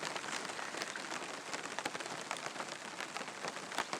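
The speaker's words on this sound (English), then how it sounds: "it is obviously raining quite bad" Steady rain falling outdoors in the Lake District, a dense, even hiss of drops pattering on surfaces with occasional louder splats, continuous and fairly near with no voices.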